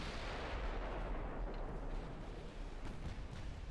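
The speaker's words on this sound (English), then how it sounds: "There's a torpedo detonation" A torpedo detonation in the naval game Ultimate Admiral Dreadnoughts, heard as a loud, steady rumbling roar of distant explosion and battle noise with scattered faint thuds.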